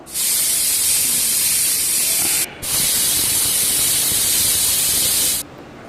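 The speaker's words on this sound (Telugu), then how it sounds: "సో కొంచెం ఆవిరి వచ్చినప్పుడు విజిల్ పెట్టాలన్నమాట." Loud, steady steam hiss from a pressure cooker cooking meal maker pulao, broken by one brief pause before continuing, then cutting off near the end.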